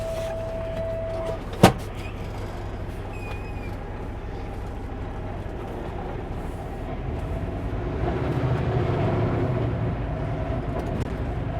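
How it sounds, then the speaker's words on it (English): A heavy pulp truck rumbles past in the distance on a Canadian highway, its low drone swelling toward the end, after a single sharp click near the start. "Got a pulp truck driving by down on the bottom there"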